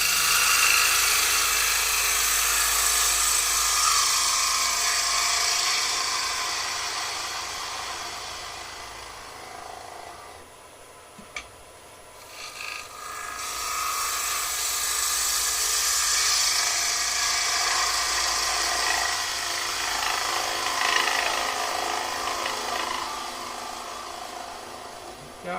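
Bowl gouge cuts a wooden bowl spinning on a lathe, a steady whirring hiss of shavings over the motor hum that fades out briefly midway and then returns.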